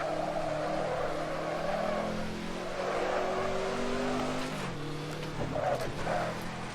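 A Ford GT40 race car in the Assetto Corsa driving game roars steadily throughout, its engine note rising and shifting through gears with continuous loud revving and no talk.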